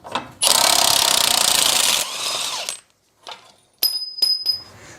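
A socket wrench works on the strut rod of a 1967 Chevy Impala, with a burst of loud ratcheting and grinding followed by scattered metallic clinks and taps up close.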